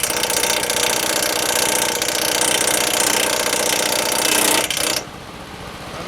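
A rusted-out Briggs & Stratton 6HP engine on a Scotts self-propelled lawn mower runs loud and close with a steady rattling drone, then drops abruptly to a quieter idle near the end.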